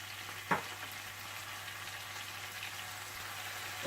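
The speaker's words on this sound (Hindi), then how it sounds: "जैसे ही लहसुन थोड़ा सा फ्राई हो जाए" Garlic frying in a pan with soy sauce and crushed red pepper about to join it, giving a steady faint sizzle with a soft clink near the start and no voices.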